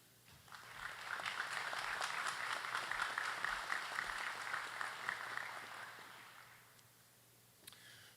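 Audience applause at a firefighter graduation ceremony swells quickly into sustained, fairly distant clapping from a crowd, holds steady for several seconds, then fades out, with a faint voice near the end.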